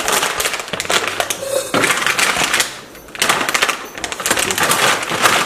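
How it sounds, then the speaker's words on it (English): A plastic bag of GF Harvest gluten-free organic oat groats is torn open up close, with loud crinkling and crackling in bursts separated by a short pause. "First thing you do is you open the bag."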